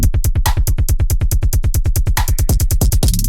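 Heavy synthesized bass from a Skrillex, Fred again.. and Flowdan 'Rumble' remake, pulsing in a fast, steady, loud rhythm with a harsh high cut before it drops away and fades at the end.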